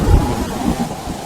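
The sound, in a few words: rain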